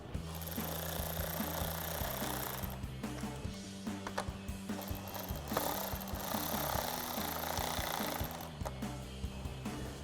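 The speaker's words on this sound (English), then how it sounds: "tighten those down with a 10mm socket" Nuts are driven tight with a 10mm socket on the upper grille of a 2021-2023 Ford F-150, producing a loud, steady mechanical whirring and rattling with a low droning hum that runs throughout.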